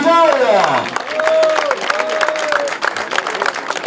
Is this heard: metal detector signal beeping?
no